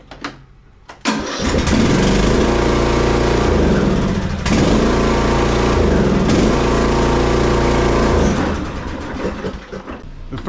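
A zero turn lawn mower engine cranks and catches, then runs loud and close at a steady roar for several seconds before faltering and dropping away, a fault where it dies as the parking brake is released.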